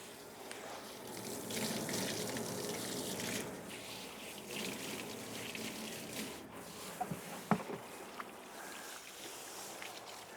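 Water running and splashing as a soil blocker is rinsed clean, a steady broadband wash with a few sharper drips and knocks near the end, fairly close.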